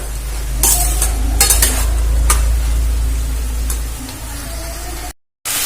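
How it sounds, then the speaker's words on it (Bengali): Mixed vegetables for a Bengali veg fry are stirred in a pan as their released water cooks off, a steady close sizzle broken by a few bursts of scraping stirs, with no talking. "একটু নাড়াচাড়া করে জলটা শুকিয়ে নেব"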